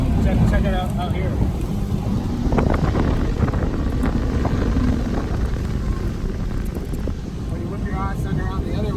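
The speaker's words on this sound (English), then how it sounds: "You can really stay on the throttle because you can feel that the hydrofoil carries the back." An outboard-powered boat fitted with a hydrofoil turns on open water, its motor droning low beneath heavy wind buffeting and water rush, with a voice talking over the noise.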